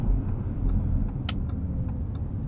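Audi RS3 Quattro (2018) engine pulling hard under acceleration, a steady loud low rumble with a few sharp ticks and one brief bright crack partway through, no talk.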